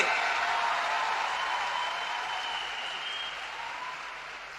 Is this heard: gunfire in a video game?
no